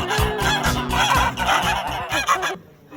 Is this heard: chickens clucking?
yes